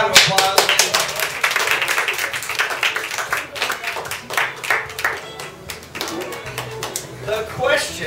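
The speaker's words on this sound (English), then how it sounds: "Give her a round of applause." A room of guests at a 2010 Christmas party Table Topics session breaks into applause: dense, close, irregular clapping that carries on steadily for several seconds.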